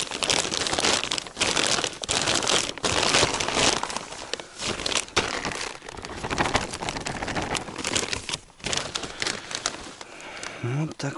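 A plastic bag crinkles and rustles in irregular bursts while cranberries are picked in a northern taiga bog, with people talking over and between the crackles.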